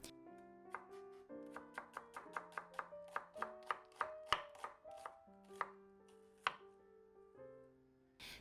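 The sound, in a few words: knife slicing onion thinly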